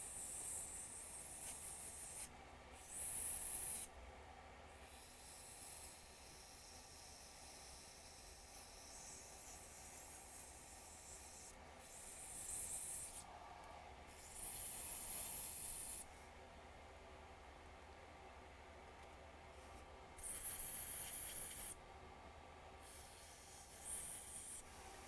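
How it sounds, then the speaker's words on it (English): Flux remover hisses from a spray can in short bursts as a circuit board is scrubbed. Quieter brushing and rubbing fill the gaps, and the whole sequence stays faint and close. "I don't want to ultrasonic this, so I'm just going to use the flux remover."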